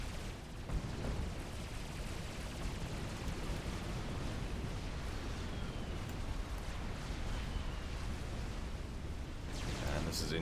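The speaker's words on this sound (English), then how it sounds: "Cerberus turrets up front, having a violent disagreement with a small patch of dirt 100 meters in front of their turrets." Cerberus turrets in Supreme Commander fire a dense barrage of booms and bursts, heard as a continuous rumbling roar with little break.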